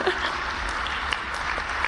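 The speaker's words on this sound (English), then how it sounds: "we deserve to give the High Court of Kenya a clap" Steady audience applause at a conference on civil society and HIV advocacy, a dense, continuous wash of clapping heard from a distance at moderate volume.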